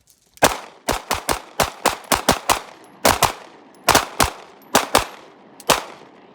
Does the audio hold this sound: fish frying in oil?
no